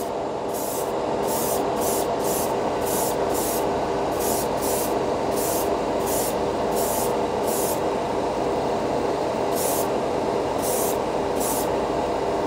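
An airbrush sprays Dspiae metal-color lacquer over Tamiya primer, a steady close hiss running throughout, broken by short bursts of sharper air in a stop-start rhythm, with no one speaking.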